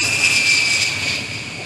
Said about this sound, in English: Sorry about the noise. It's just, a jet flying over.